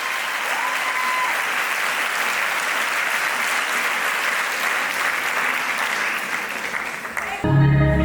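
Sustained audience applause fills a live concert hall, a dense steady wash of clapping from a crowd honoring the singer's mother Diana in the front row, running about seven seconds before cutting off abruptly.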